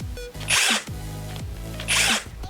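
An UBERMANN 18V cordless impact driver (UB18VIDⅡ) trigger-pulled in reverse with auto-stop on: two short bursts, each a motor whine that rises into a loud rattling hammering and then cuts off by itself, heard up close.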